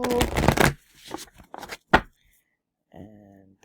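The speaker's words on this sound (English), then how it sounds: "And shuffle 3 times." A deck of cards being riffle-shuffled up close in quick bursts, followed by a short spoken remark.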